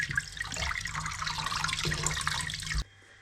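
Cold tap water rinsing soapy residue off leather walking boots, a steady close splashing stream that stops abruptly near the end, leaving quiet.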